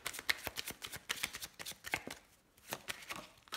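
Tarot cards are cut and shuffled by hand, producing a quick, close sequence of crisp riffling flicks and soft slaps in an irregular rhythm, with no talking over them.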